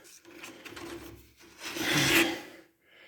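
Rough 40-grit sandpaper on a fireboard rasps across body putty on a VW Beetle trailer, a few short scrubbing strokes building to a louder pass, close and alone.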